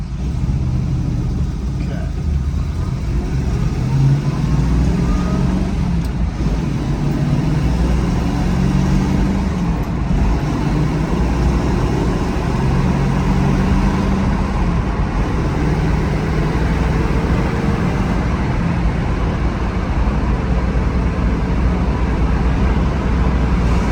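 A 1968 Shelby GT350 with a 302 V8 and four-speed pulls steadily in fourth gear, a deep continuous engine drone with road rumble heard from inside the cabin, loud and unbroken throughout.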